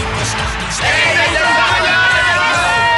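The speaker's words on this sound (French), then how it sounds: "Entendez la foule, c'est une réussite." Cheering from a cartoon crowd, a loud mass of yells and whoops that swells and holds steady throughout, close and dense, with no single voice standing out.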